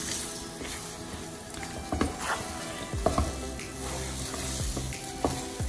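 Nuts being stirred into sweet chakkara pongal in a pan, a soft sizzle with intermittent scraping clinks of the spoon against the metal.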